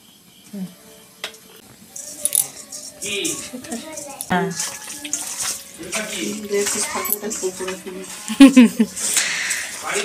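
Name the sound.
filling containers with water from a tap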